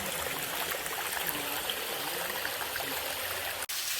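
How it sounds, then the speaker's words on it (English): Steady trickle of a small waterfall at Edith Falls in Chaguaramas during the dry season, water dribbling down from the top in a continuous, close, even wash with no talk. "So it's a trickle down from the top."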